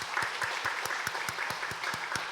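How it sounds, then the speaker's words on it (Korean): A church congregation claps to welcome a new family during Sunday worship, with steady rhythmic applause that stays moderately loud and even throughout. "박수로 우리 환영하겠습니다"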